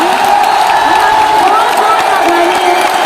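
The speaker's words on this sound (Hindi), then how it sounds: "जब तक मेरे मैम स्टेज पर है तब तक तालियों की और शोर की आवाज बंद नहीं होनी चाहिए" A large audience at a university anniversary event with a business speech cheers and applauds loudly as a guest stands on stage. The clapping, shouting and voices form a constant wall of sound.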